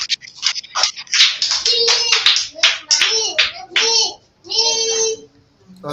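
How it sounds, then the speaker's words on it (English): Children clap in short, uneven bursts during a virtual space-themed lesson, the scattered claps mixed with young voices chattering over and between them, with brief pauses near the end. "Clap for yourself."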